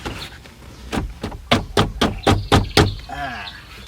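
A hand knocks on the underside of a car dashboard near a non-working air-conditioner blower fan, a run of about nine sharp, evenly spaced raps, close and loud, fading at the end.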